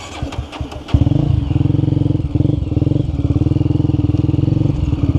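A Honda Twister motorcycle engine fires up after a few rustling knocks, then idles and revs in a fast throbbing pulse, loud and close, running steadily for several seconds with no voices.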